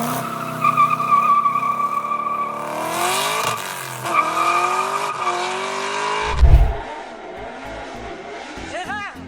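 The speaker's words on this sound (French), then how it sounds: "ce que j'écoute, c'est des moteurs V8 américains là" American V8 engines revving, loud rising and falling engine roars with tire squeal, followed by a heavy low thump and quieter sputters, heard as a playback recording.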